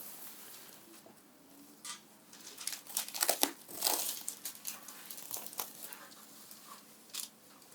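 A plastic cover is pulled off a bowl of risen dough, giving close, loud crinkles and rustles in irregular bursts with brief pauses between them.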